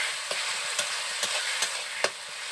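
Spice masala with garam masala sautéing in a pan for stuffed pointed gourd, a steady sizzle broken by several soft spatula scrapes at irregular intervals, fairly quiet and close, with no voices.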